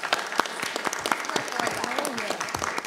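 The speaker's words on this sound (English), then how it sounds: "Let's all clap for Osborne Park." School board meeting audience clapping for a local school, steady scattered hand claps with a voice talking over the applause throughout.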